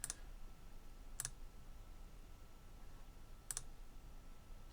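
Mouse clicks while adjusting hair animation in Blender, three sharp, sparse clicks spaced about a second or two apart against a quiet, low room hum, close and faint.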